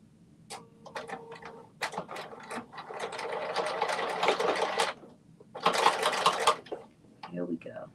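A sewing machine runs a regular stitch in several bursts of rapid mechanical chatter, separated by brief pauses and light handling noises, close and fairly loud.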